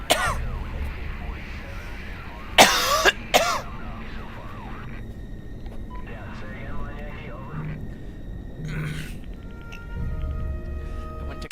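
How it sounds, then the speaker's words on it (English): A sharp cough and a thump from a headset microphone being smacked, two close loud bursts, followed by quieter game sounds and a voice talking. "I went to cover my mouth because I usually do when I cough, but I have a headset on with the mic out, so I accidentally kind of smacked my mic"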